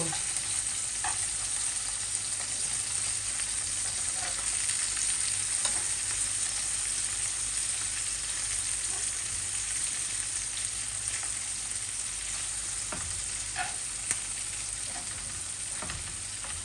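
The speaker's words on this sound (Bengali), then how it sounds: "মাছগুলা উল্টাইয়ে দেই, অল্প তেল দিয়েছি ভাজির সময়, ইলিশ মাছ তো" Hilsa fish frying in a little oil in a pan, a steady close sizzle with crackling spatter throughout, continuous and fairly loud.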